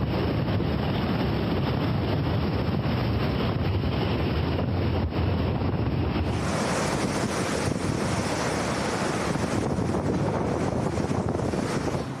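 Typhoon Mangkhut lashes the Hong Kong waterfront in September 2018, with wind buffeting the microphone and surging waves forming a loud, unbroken roar and no speech.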